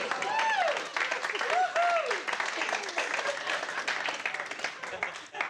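Comedy show audience applauding during a French-language humour sketch, a thick wash of clapping mixed with cheering and voices, close and sustained before tapering off.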